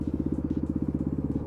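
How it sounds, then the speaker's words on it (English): Motorcycle engine idling in city traffic in Las Vegas, a close, steady, rapid thumping pulse that runs throughout with no talking over it. "This traffic is just insane. And the engine's still running."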